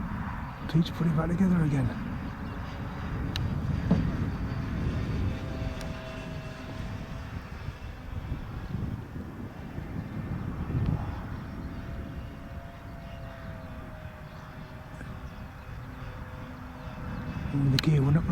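An Avios Tucano RC model plane, rebuilt after a crash, flies with a steady engine drone at moderate distance throughout, with people talking over it.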